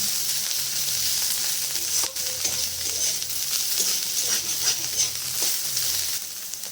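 Potato and bitter gourd slices frying in a pan, giving a steady close hiss of hot oil, with occasional light spatula knocks and scrapes and no talking.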